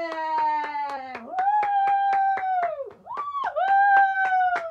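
Audience at a school production of The Lion King musical clapping steadily while voices whoop and cheer loudly over the applause, dipping briefly before rising again.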